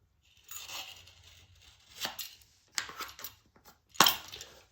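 A cutter slices the first piece of Amtico or Karndean herringbone vinyl flooring, giving a few short, sharp scraping and snapping strokes at close range with quiet gaps between them.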